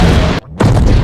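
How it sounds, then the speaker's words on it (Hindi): A burning warplane crashing into the sea in a Pearl Harbor battle scene, a loud booming impact that cuts out abruptly, falls briefly quiet, then surges back into a roaring rumble. "तबाह होने के बाद प्लेन समंदर में जाके गिरता है"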